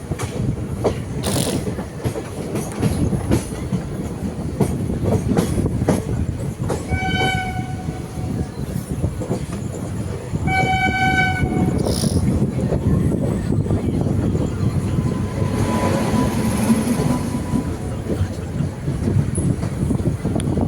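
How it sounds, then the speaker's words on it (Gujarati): A train rumbles steadily past on platform 4 with clattering wheels, sounding two long horn blasts partway through; loud and close, with a continuous mechanical roar. "ચોથામાં પ્લેટફોર્મ પર આપણે ટ્રેન જાય છે."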